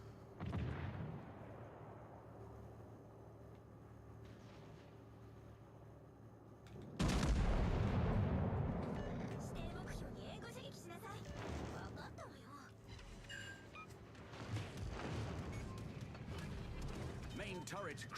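Ship's guns firing in World of Warships Legends, a heavy boom near the start and a big blast midway with a long rumbling decay, followed by scattered mechanical clanks under occasional talk.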